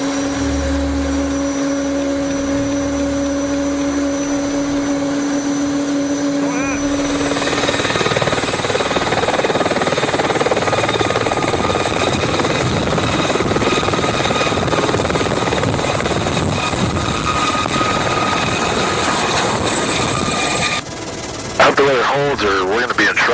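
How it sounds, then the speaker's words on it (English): A helicopter spins up for takeoff with a steady, loud turbine whine and rotor roar that swells and thickens partway through and continues throughout, with a brief dip and fluttering change near the end. "Helicopter 1 X-ray 0 cleared for takeoff."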